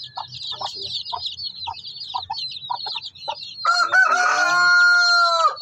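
In a backyard coop, chickens and five-day-old chicks cluck and peep in rapid bursts, then a louder drawn-out crow or squawk rises near the end, all close by.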